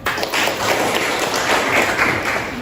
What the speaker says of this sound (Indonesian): Tepuk tangan dulu buat kalian ya